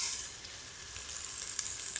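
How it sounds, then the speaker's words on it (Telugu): Potatoes hiss in hot oil in a pan, a steady bright sizzle with a faint crackle or two, close and quiet with no voices. "మంచిగా ఆలుగడ్డ వేసేద్దాం."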